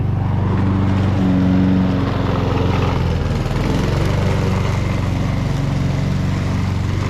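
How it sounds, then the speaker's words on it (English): Lawn mower cutting a garden lawn for the first mow of the year, a loud, steady engine drone close by that holds throughout with little change. "first garden of the day, and we're having our first mow of the year"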